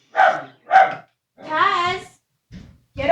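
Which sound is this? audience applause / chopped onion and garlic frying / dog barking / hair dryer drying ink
dog barking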